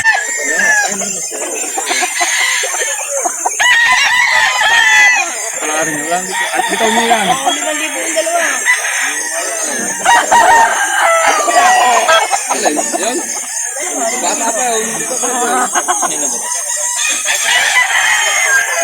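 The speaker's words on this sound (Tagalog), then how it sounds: "may mga manok yan doon sa may mga puno na yan" Roosters crow and cluck continuously at a Calauan, Laguna chicken market, several birds overlapping loudly and near, while people talk and haggle throughout.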